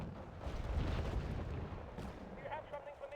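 Mortar fire in a video game, a heavy rumbling barrage of booms and blasts that swells and then settles, with someone talking over the noise.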